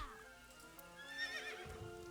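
A merry-go-round horse in the video game AI: The Somnium Files gives a faint, brief whinnying neigh with a hint of hoof clatter at the end, quiet and with no talk over it.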